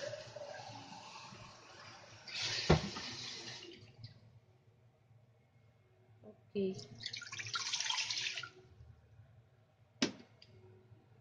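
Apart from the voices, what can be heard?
water filling a steamer pot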